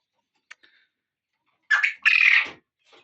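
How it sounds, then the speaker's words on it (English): A quail rooster calls up close, a harsh two-part squawking cry after a faint brief chirp, loud against an otherwise quiet background. "Seems like that is a rooster,"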